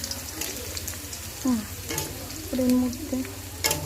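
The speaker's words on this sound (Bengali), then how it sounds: "একটু রসুন দিয়ে দিলাম, একটু কলাইয়ের ডাল দিয়ে দিলাম, দিয়ে একটু নাড়াচাড়া করছি।" Garlic and black gram lentils sizzle in oil left from frying hilsa fish head while a spoon scrapes and stirs them around the pan in repeated strokes.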